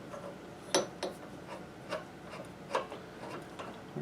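A pipe cutter is loosened on copper pipe during a hot water tank replacement, giving a series of faint, irregular ticks and rubbing clicks close by in a quiet space.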